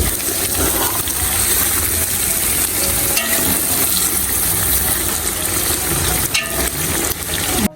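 Onions and chillies frying in a pan, with a dense, steady sizzle and crackle that holds loud and close throughout, broken by a few brief scrapes and clicks.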